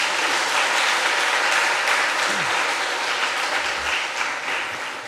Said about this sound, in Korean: 우리 힘내시라고 박수로 환영하겠습니다